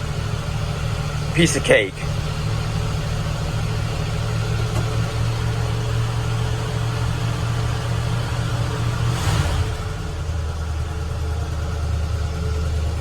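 A 1970 Ford F100 Explorer Custom engine, started cold, holds a steady high idle with a low, even exhaust rumble that drops slightly near the end, under brief talk.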